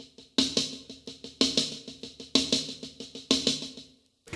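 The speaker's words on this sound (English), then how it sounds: "That's the same 6-stroke roll, but here we started from the 4th note of the 6-stroke roll." Close, loud drum-kit roll in repeated six-note groupings that begin on the fourth stroke, with accented crashing hits every second or so over quick snare and tom strokes, ending in a brief silence and one soft tap.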